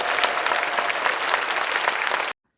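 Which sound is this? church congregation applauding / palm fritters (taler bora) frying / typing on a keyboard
church congregation applauding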